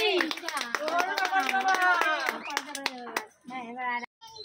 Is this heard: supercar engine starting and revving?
no